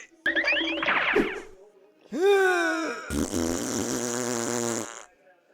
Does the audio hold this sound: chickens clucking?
no